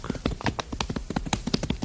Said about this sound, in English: As the horse and rider galloped from the moonlight to the shadows, Ichabod could see